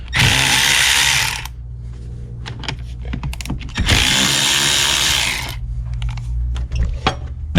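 A power tool whirs in two long bursts while removing battery terminal bolts on a VW GTI, with clicks and metallic ratcheting taps in between, close by in a garage setting.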